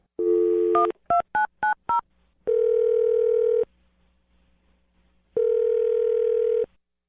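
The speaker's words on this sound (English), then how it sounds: "I'm going to dial her phone number right now." A telephone keypad beeps out a quick string of dialing tones, followed by two long, steady ringback tones separated by a pause.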